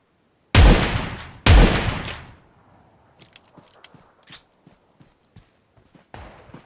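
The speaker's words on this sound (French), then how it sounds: "je me prends des tirs, je sais pas où" Gunfire in the video game PUBG: two loud, close shots in quick succession, each with a decaying tail, followed by faint scattered footsteps and clicks, no talk.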